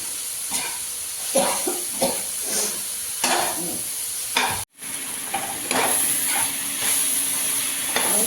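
Guar beans (cluster beans) with potatoes being stirred in a pan on a village home stove, with a steady sizzle and repeated scraping stirs through most of the stretch, close and clear, no talking.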